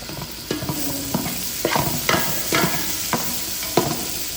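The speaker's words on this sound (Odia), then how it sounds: "ଗୋଟେ ପିଆଜ ଭଜା ଆମର ଷ୍ଟାର୍ଟ ହେଇଗଲାଣି" Onions fry in a kadai with a close, bright sizzle broken by repeated sharp scrapes and stirs of a spoon against the metal, roughly one every half second, and no one speaking.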